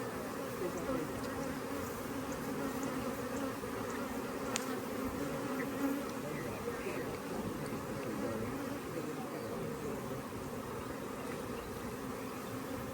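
Honey bees in an open hive make a dense, steady buzzing hum throughout, close and continuous, with no talk over it.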